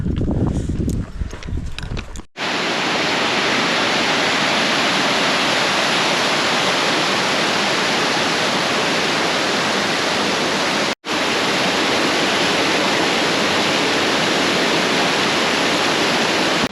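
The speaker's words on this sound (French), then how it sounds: "Là je viens de traverser la cascade" Mountain waterfall on a high alpine route, a loud continuous roar of cascading water that fills the scene, cut briefly by one short dropout, after a few seconds of footsteps and scuffing.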